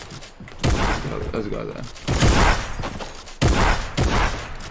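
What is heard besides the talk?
combat shotgun gunfire in Fortnite video game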